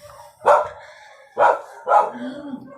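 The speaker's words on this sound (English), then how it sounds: "Dogs are griping because the guy here that mows the lawn." Dogs on a farm gripe at a man mowing the lawn, three loud, close barks spaced about a second apart, the last trailing into a low whine, with no talk.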